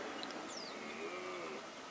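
A long, low bellowing call from a red deer stag during the rut carries across open ground, with a faint higher whistle above it and a steady outdoor hiss beneath.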